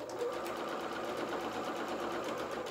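A sewing machine runs steadily, stitching down the side seam of a full skirt for a small doll-sized angel dress, a close, even mechanical whir that holds without a break.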